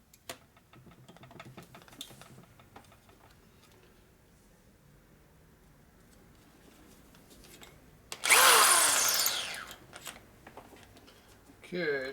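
A drill bit bores into the case of a Harley M8 145ci big-bore engine. Quiet shop sounds and speech lead up to a loud, harsh burst of drilling lasting about a second and a half, followed by a brief clatter.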